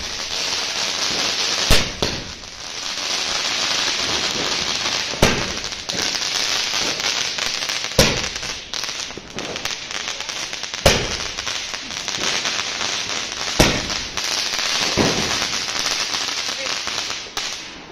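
Diwali firecrackers burst outdoors: a dense, continuous hiss and crackle with sharp, loud bangs every few seconds.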